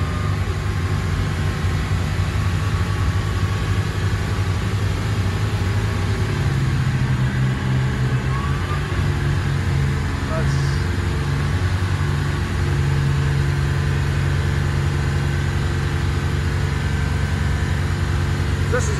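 A Birchwood 370 Commando boat runs at cruising speed on twin 285 hp Volvo Penta KAD300 diesel engines, a loud, steady, low drone with a constant hum that continues throughout.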